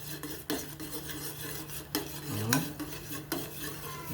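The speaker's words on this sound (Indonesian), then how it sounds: "blue band kita campurkan tuh dalam airnya, kemudian kita sedikit aduk-aduk" Blue Band margarine being stirred into water for fishing bait, a utensil scraping and clinking against a container in a few distinct strokes over a steady low hum, close and fairly loud, with no talk.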